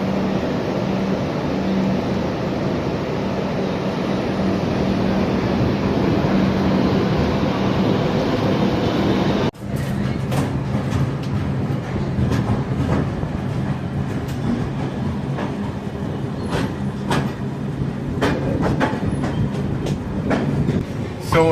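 A Pallavan Express train leaving Chennai Egmore rolls along the tracks with a continuous low rumble, then the sound shifts partway through to rhythmic clacking and rattling of the carriage.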